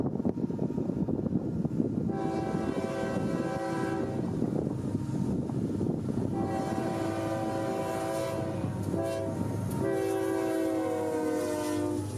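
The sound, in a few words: freight train locomotive horn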